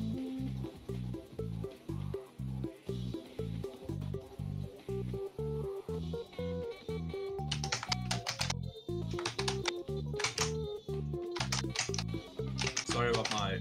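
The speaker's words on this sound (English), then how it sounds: "Sorry about my keyboard. It's a little bit loud." Loud computer keyboard clattering in rapid, irregular bursts of keystrokes, with a person talking over it and other sounds in the background.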